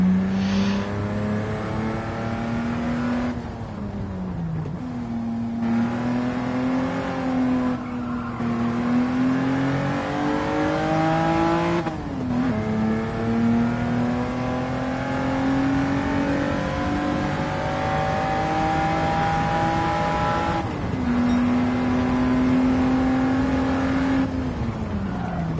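Race cars roar through a lap in Gran Turismo 7, a loud, steady engine drone that climbs in pitch, drops briefly at gear shifts and keeps revving near and continuous.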